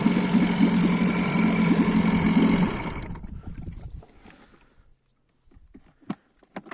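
A Johnson 4 outboard boat motor idles with a steady low hum for about three seconds, then dies away into near silence broken by a few faint clicks and knocks.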